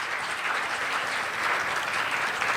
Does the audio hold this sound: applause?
yes